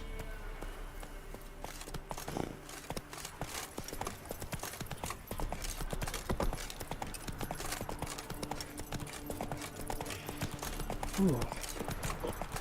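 Roach, the horse in The Witcher 3, trots in steady rhythmic clip-clop hoofbeats that run throughout at moderate volume, while a voice talks over them and a brief whinny-like cry rises near the end.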